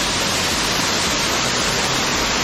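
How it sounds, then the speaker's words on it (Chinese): Steady, loud broadband rush of falling water at the Lianxin Waterfall near Shibi Xiangu in Yunlin, filling the whole stretch without a break. "瀑布啊，"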